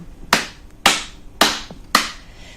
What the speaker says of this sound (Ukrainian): Під мажорну музику будемо плескати долонями в ритм.